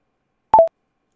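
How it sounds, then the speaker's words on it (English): The OBS default recording-stop cue, a brief two-note electronic chime falling in pitch, two quick clean beeps heard alone against silence. "and then the stop default one sounds like this"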